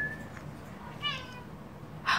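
A house cat meows a few times indoors, short faint-to-moderate calls ending in one clearer, louder meow near the end, over a steady low background hum.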